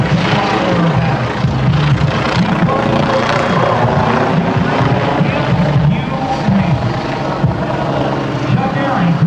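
A helicopter flying aerobatics at an airshow, its rotor and engine roaring loudly and steadily throughout, with a voice speaking over the noise.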